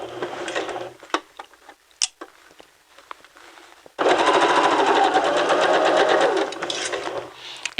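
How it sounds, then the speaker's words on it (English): Scattered clicks and light handling noises give way midway to a sewing machine stitching fabric, running steadily with a rapid, even rattle for several seconds before slowing near the end. "And then stitch all the way around at a speed that's comfortable for you."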